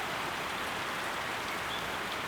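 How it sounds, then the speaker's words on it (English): Heavy rain pouring steadily in Hilo, Hawaii, a dense, even hiss of drops that stays constant and close throughout, with no voices. "We thought that 3 days of the most rain ever in Hilo was enough, but apparently it's not."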